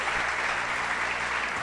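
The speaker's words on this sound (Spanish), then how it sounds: "Así que un aplauso al Señor," A church congregation breaks into loud, dense applause, a steady wash of many hands clapping together.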